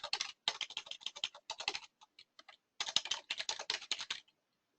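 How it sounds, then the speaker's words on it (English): Rapid typing on a computer keyboard, close and crisp, in two bursts of quick key clicks separated by a brief pause with a few scattered taps, then a final keystroke; no talking. "We simply type in the service name and hit Enter."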